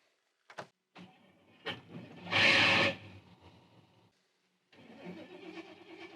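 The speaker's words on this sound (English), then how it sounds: "We're gonna see if it'll turn over." An old Jeep Wagoneer left sitting for years, its engine cranking in one short, loud grinding burst that stops without catching, set between scattered clicks and handling noises.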